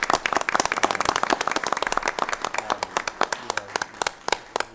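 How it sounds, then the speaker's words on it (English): A small group applauds at a board of education meeting, with distinct individual claps that thin out toward the end and faint voices underneath. "round of applause."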